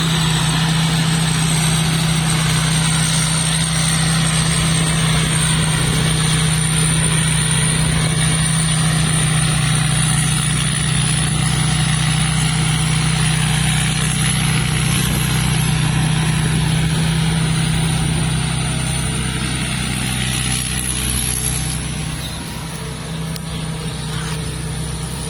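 A Thai combine harvester engine runs steadily and loudly up close, a continuous low drone with a persistent high whine, holding level for the whole stretch and easing slightly near the end, with no talking.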